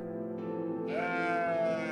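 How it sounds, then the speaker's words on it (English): A goat in a video game lets out a loud, close, wavering bleat lasting around a second, rising in intensity toward the end, with no voices over it. "Mate, goat!"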